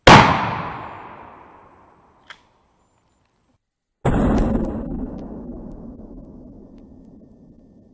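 A single loud, close turkey shotgun blast, a Cooey model 84 or Mossberg 835 Ulti-Mag, bursts out and decays over about two seconds; a brief tick follows, then another heavy boom with a long rumbling tail and a thin high ring.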